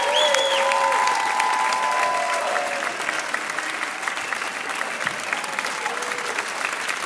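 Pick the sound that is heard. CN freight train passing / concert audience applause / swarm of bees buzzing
concert audience applause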